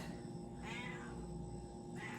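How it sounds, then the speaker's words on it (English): A house cat meows twice at home, a drawn-out meow followed by the start of a second one, over a steady background hum. "Cat."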